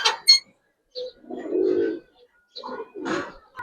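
Coloured Gribaz pigeons coo close by in several short, throaty bursts separated by brief silences, with a few higher chirps mixed in.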